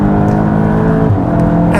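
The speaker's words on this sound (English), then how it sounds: "let's just full throttle out of this one" A Mk3 SEAT Leon Cupra, 300 horsepower, pulls hard at full throttle, its engine a loud, sustained drone that climbs steadily in pitch, with talk over it.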